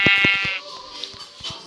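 Sheep bleating in Minecraft, a single close harmonic bleat at the start followed by quieter game noises, with no voices.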